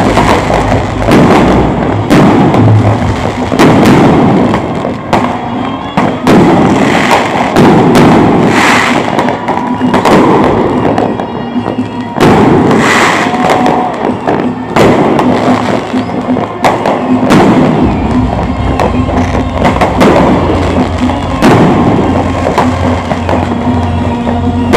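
New Year fireworks and firecrackers going off at a beach in Anyer, Banten, Indonesia: a dense, continuous barrage of bangs, crackles and thumps, some near and loud, others distant, with no pauses.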